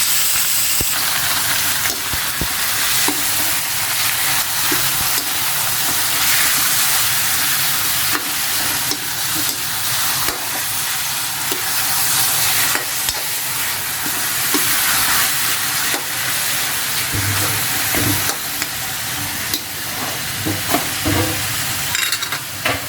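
Large chunks of chicken fry in a pot for tinola, a Filipino chicken soup, and a loud hissing sizzle runs steadily throughout with stirring and clatter from utensils. No one speaks.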